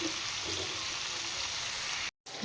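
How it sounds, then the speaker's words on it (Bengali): Pieces of ridge gourd fry in a pan with turmeric, giving a steady, close sizzle that stays level throughout, with a momentary drop-out near the end and no voices. "এই দুদুলগুলো একটু ভালো করে ফ্রাই করবো এবার একটু ফ্রাই করে নিই"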